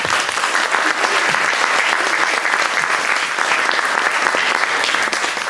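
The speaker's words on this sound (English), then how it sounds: "Can you give them another applause, please?" An audience applauds singers after their song, dense and loud clapping sustained evenly from start to finish with no talking over it.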